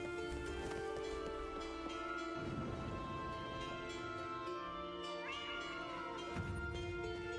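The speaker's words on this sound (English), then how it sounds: "Cat." A cat meows several times, drawn-out tonal cries rising and falling over a steady background hum, fairly close and clear with no speech.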